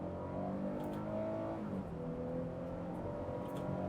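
A naturally aspirated 2025 Nissan Frontier pickup accelerates hard to highway speed, its engine note a steady, rising drone heard from inside the cab with no talking.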